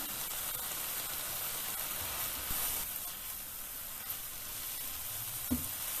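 Vegetables cooking in a pot for a bean and pasta soup with dried oregano, giving a steady, even sizzle and hiss with a few faint clicks of stirring, close and without talk.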